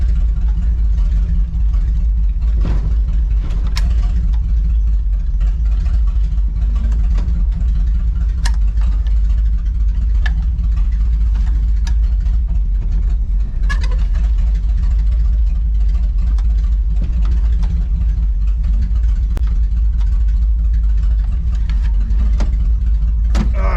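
A 1968 Chevy Suburban truck engine idles steadily, a loud low rumble that holds for the whole stretch with a few small knocks and clicks on top and no voices.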